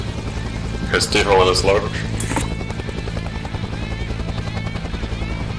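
A helicopter lands in a Vietnam war video game, its rotor thumping steadily and loudly throughout while voices talk over the radio.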